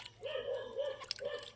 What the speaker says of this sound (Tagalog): may ingay yung aso